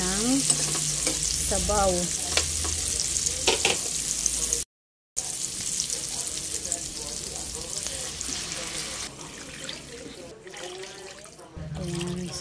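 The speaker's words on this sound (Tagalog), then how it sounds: "Gisa muna natin ng konti." Meatball ingredients sautéed in a pan for a bola-bola soup with miswa, patola and malunggay: a steady frying sizzle with stirring scrapes runs throughout, broken by a brief gap, while someone talks over it.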